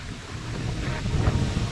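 Steady, strong wind roars with broad rushing noise, buffeting the microphone, and a dense hiss like rain runs beneath it throughout.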